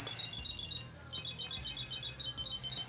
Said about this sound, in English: ask Cube tracker to ring my laptop